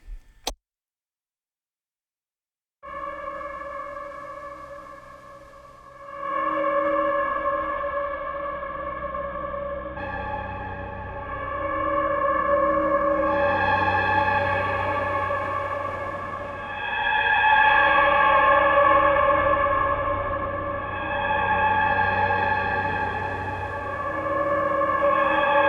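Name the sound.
Slate + Ash Ruins plugin, Brutalist Chamber preset soundscape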